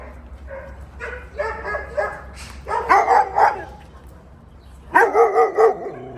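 A dog barks in quick clusters of sharp, close woofs, one burst followed by a pause and then another, with faint voices in the background.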